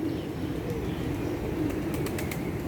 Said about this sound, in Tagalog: Oh, yung mga kalapati.